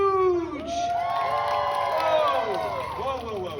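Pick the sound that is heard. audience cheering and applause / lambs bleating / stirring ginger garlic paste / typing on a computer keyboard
audience cheering and applause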